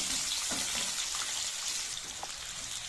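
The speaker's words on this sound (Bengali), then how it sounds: "এবার আলুগুলোকে আমি সুন্দর করে একটু লবণ দিয়ে সুন্দর করে লাল লাল করে ভেজে নেব" Potatoes frying with salt in oil give a steady, hissing crackle, even and moderately close, with no voices.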